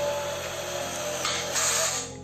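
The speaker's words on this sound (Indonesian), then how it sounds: "Sekarang kita coba untuk melakukan pemasangan baut roofing di kanal C bajaringan ya." A DCA ADJZ1202i cordless brushless hammer drill drives roofing screws into lightweight C-channel steel, giving a continuous, fairly loud motor whir with a gritty edge that holds steady and eases off at the end.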